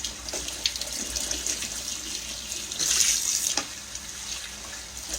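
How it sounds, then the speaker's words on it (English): Cold tap water runs steadily over boiled eggs in a kitchen sink, a continuous near hiss with a brief louder surge partway through as the flow strikes the eggs. "I've got my cold water running on them"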